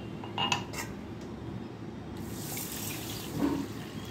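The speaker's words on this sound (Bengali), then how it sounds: "চাল ধুয়ে নেব।" Rice being washed in water for khichuri, light swishing and splashing with a few clinks of a metal pot or utensil, close by and moderately quiet.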